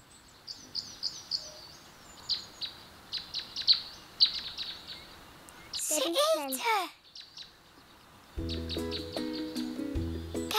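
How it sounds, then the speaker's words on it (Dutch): Small birds chirp in quick, repeated bright tweets during a quiet moment outdoors. A voice then speaks, and a tonal melody follows. "Nu we stil zijn, kunnen we de vogels horen."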